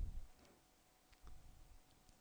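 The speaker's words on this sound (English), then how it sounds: "Left mouse click" A few faint, sharp clicks of a computer mouse during ArchiCAD software use, spaced apart against a quiet background hum.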